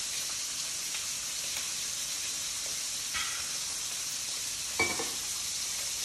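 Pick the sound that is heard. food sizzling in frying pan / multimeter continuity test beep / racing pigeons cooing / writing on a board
food sizzling in frying pan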